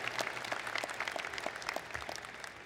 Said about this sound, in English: Please give her a round of applause for coming back to College Park.